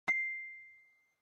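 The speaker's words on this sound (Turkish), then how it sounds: "to'xtamay telefon qilyapti bittasi, beparosat. Messenger'dan." A single bright electronic ding rings out and fades over about a second, a notification-style tone from a phone getting a Messenger call, heard alone in an otherwise quiet room.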